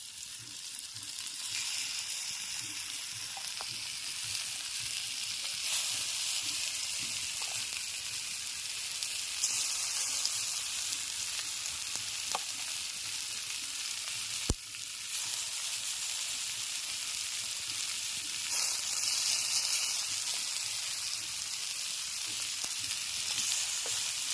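Chicken frying on a clay roof tile, a steady loud sizzle with crackling pops throughout, no voices.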